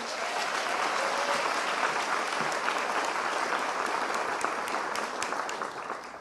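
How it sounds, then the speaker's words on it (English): A crowd applauds steadily, dense clapping from many hands that stays loud throughout before tapering slightly at the end. "let's give a round of applause for these brave people"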